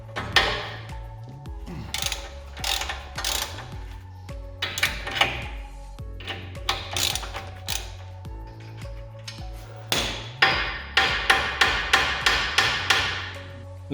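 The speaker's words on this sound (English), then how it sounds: "Now I will unscrew the steering rack." Metal tools work on the steering rack of a Volvo XC40 with repeated clanks, taps and ratcheting clicks, coming in irregular bursts and ending in a quick run of rhythmic hits, close and unaccompanied by speech.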